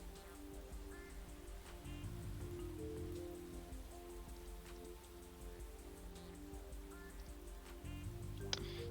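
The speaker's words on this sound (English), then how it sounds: "Stupid rain is so bad." Steady rainfall in the video game Laxius Soul, a continuous patter of drops against a surface that holds evenly throughout, with soft game music underneath.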